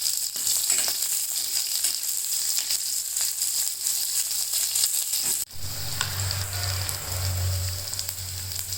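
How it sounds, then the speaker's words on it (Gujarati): Chopped onion hits hot oil already tempered with mustard seeds and cumin, a bright steady sizzle that shifts to a fuller crackling fry after a brief break midway, no talk. "પેલા ડુંગળીનો વઘાર કરી નાખીએ."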